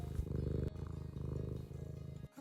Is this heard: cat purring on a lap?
yes